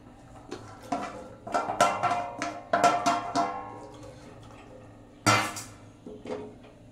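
Vegetables are dropped into a pot of water for semiya upma, giving a series of clattering metallic clinks and knocks, then a loud clunk and a faint final tap.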